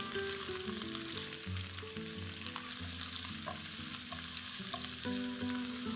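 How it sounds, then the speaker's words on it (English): Sliced onions sizzle and sauté in hot oil in a deep pan for a Goan vegetable caldine curry, a steady close frying hiss with faint stirring and kitchen tones, no talk. "let's add in sliced onions. And sauté this till translucent"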